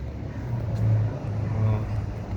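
Bus engine rumbling past on a road in cool weather, a low steady drone with swelling revs, moderately near and continuous, no talk.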